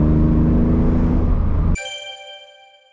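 A BMW E46 with an M52 engine, fitted with a test header, drones through its exhaust with a loud low rumble at idle before it cuts off abruptly and a chime rings out as the sound decays.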